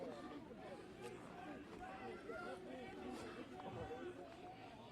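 Crowd gathered at the scene of a fatal Minneapolis shooting involving federal law enforcement, a dense murmur of many overlapping voices with scattered shouts, steady and close throughout.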